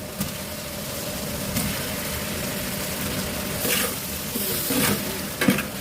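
Tomato, peas, beans and carrots frying in oil with ginger garlic paste, a steady sizzle and crackle, with a few louder scrapes and stirs near the end.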